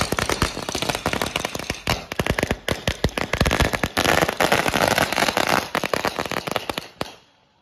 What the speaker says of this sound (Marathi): फटाक्यांची आतिशबाजी पाहायला मिळेल